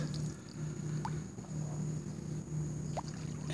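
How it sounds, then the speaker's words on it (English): A kayak paddled through mangrove tunnels in Key West in the early morning, soft dipping splashes and drips over a low steady background, no voices. "Early morning paddle."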